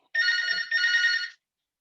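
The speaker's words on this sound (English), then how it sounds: "Sorry, that's my phone again." A telephone rings indoors, two bright electronic trills in quick succession with a short gap between them, then silence. No voices.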